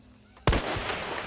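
A Springfield rifle fires once in a video game, a sharp loud crack that bursts out of a quiet background and trails off into a sustained noisy echo.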